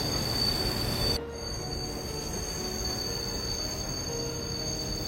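A KRL commuter train brakes hard for an emergency stop in a train simulator game recreating the 2015 Juanda station collision. The wheels give a loud, sustained high-pitched squeal over a low rumble, easing slightly after the first second.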